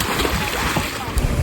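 A loud splash into salty seawater after a rope swing at a Masasa beach in Tingloy, a short sloshing burst of churned water close by with people's voices around it.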